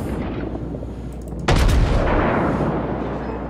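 Battleship main guns on the Congo fire in World of Warships: one sudden heavy boom erupts midway over a low rumbling background, then rolls off in a long decaying roar.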